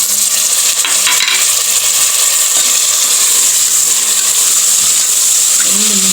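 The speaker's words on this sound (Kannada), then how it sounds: "ಈಗ ಮಶ್ರೂಮ್ ಚೆನ್ನಾಗಿ ಫ್ರೈ ಆಗಿದೆ. ಈ ಸಮಯದಲ್ಲಿ ಟೊಮೆಟೊ ಹಾಕ್ತಾಯಿದ್ದೀನಿ." Mushrooms frying in a pan for a mushroom biryani as tomatoes go in, with a loud, dense, steady sizzle and a few brief stirring scrapes, up close.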